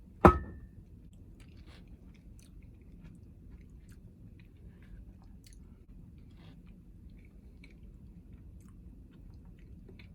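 Texas-style camper chili being chewed close up, one sharp bite or clink at the start followed by soft, quiet mastication sounds with no talking.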